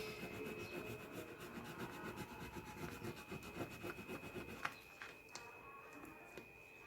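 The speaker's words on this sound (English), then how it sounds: "I'm just going to keep rubbing away and adhere the rest of this transfer" A mineral transfer is rubbed firmly onto cushion fabric with steady, rhythmic scratchy strokes. The scraping is close and quiet, then eases into lighter, sparser rubs toward the end.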